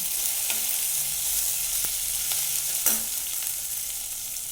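Cashews fry and are stirred in a pan for a veg gravy, a constant close sizzle with a few sharp scraping taps of the spoon, no voices.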